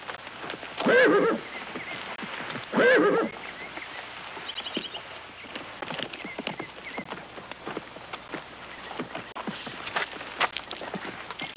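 Two loud, shrill horse neighs ring out early, followed by steady hoof clip-clops on hard ground continuing through the rest of the clip.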